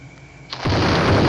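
A sudden explosion bursts in, jumping from quiet to a loud, sustained broadband roar that continues to the end.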